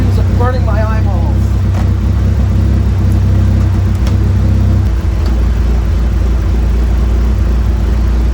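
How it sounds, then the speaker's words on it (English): A Mitsubishi Lancer Evolution VIII engine idles loudly and steadily, a low rumbling drone that continues throughout. "enjoy the engine noises"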